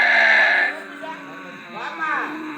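A performer in a traditional Telugu Bhagavatam folk show vocally imitates buffalo mooing. The voice gives a loud, drawn-out bleating call, followed by a softer, wavering lowing sound.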